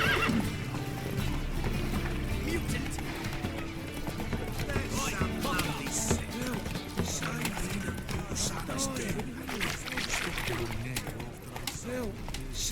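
Horse galloping in the Witcher 3 video game, a continuous rapid drumming of hooves with snorts and whinnies over a busy background, steady and loud throughout, with a voice speaking briefly at the start.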